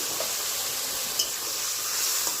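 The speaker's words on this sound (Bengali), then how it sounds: "তিন থেকে চার মিনিট সময় নিয়ে মশলাটাকে খুব ভালোভাবে কষিয়ে নেব" Spice masala with salt, turmeric and a little water is stirred and fried in a pan, giving a soft, even sizzle with a faint scrape of the spoon partway through and no talking.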